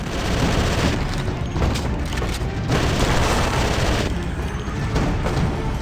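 Gunfire from the zombie apocalypse shooting game Left to Survive, a loud, dense barrage of rapid shots and booms that keeps going for several seconds with no talking.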